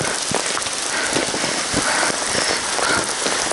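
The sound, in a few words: heavy rain and hail falling in the Himalayas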